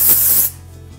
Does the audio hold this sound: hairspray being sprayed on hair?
yes